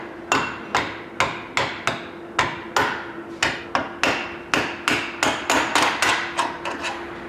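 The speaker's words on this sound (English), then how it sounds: "we're gonna have to hit these little kickouts here, little tangs hanging off. We're gonna use a brass hammer for that." A brass hammer raps repeatedly on the tangs of a connecting rod cap on a Chevrolet 454 big block, around twenty close, sharp knocks that quicken toward the end.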